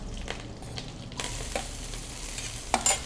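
Onions hit hot oil already seasoned with spluttering mustard and cumin seeds, giving a steady close sizzle with stirring scrapes and a few sharper pops and clinks toward the end.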